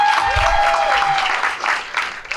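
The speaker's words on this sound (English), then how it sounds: "Let's give her a big round of applause." An audience at a Chamber of Commerce business appreciation night claps for a woman volunteer at a magic act, a sustained round of applause with a faint tone running beneath it.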